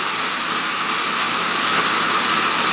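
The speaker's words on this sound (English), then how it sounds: "you want to drain all the rice noodles and you just toss them directly in the pan" Drained rice noodles hit a hot pan and sizzle, a loud, steady broadband hiss that continues unbroken and close, with no talking over it.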